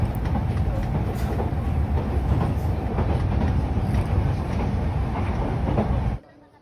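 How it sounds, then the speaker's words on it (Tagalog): Steady rumble and rolling clatter inside a train bound for Nara, Japan, continuous and fairly loud from start to finish, then cutting off abruptly near the end. "Andito na pala kami ngayon sa pangalawang train na sasakyan namin."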